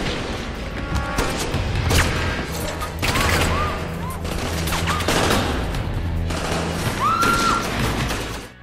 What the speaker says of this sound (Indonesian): Tak berselang lama, aksi tembak-tembakan pun terjadi.